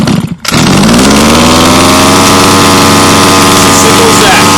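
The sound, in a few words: Baja 5B RC car engine firing after pull start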